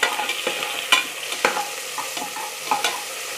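Sliced onions and green chillies frying in a pan for drumstick leaves biryani: a constant close sizzle with several sharp scraping stirs of a spatula spaced about half a second apart, no voices.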